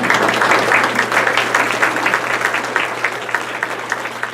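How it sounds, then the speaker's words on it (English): A room full of people claps steadily, a dense patter of applause that stays strong throughout and slowly tapers off a little near the end. "Yeah, y'all should applaud for that."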